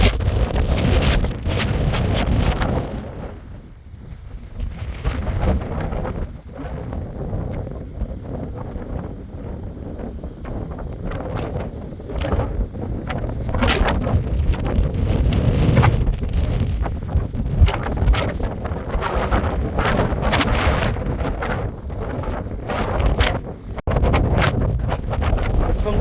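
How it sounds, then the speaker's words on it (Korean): Strong gale roaring across Daecheongbong peak on Seoraksan, loud buffeting gusts hitting the microphone in continuous surges for the whole stretch. "대청봉의 바람이 어마어마한 강풍이 불고 있습니다."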